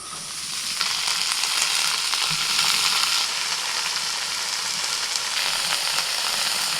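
Red amaranth greens hiss and sizzle steadily in a pan of hot oil with black cumin, chopped garlic and fried onion, a continuous close frying crackle with no talk.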